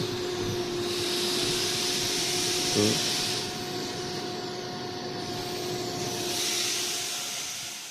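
A steady, loud rushing hiss of an air blower cleaning dust from a Konzert clone amplifier, with a faint whine underneath, swelling at times, close by and continuous without speech.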